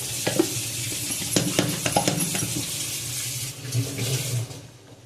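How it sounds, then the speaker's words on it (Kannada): Masala frying in oil for ridge gourd gojju, a quick home-style dish; soft sizzling runs under a few sharp spoon scrapes and stirring clicks against the pan, with no talking. "ಎಣ್ಣೆ ಬಿಡುವಷ್ಟು ಫ್ರೈ ಮಾಡಬೇಕು"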